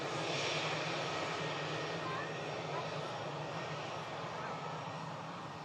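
An eight-year-old Airbus A320 taxis out at Manchester Airport, its jet engines giving a steady, loud broadband roar with a low hum that holds level throughout.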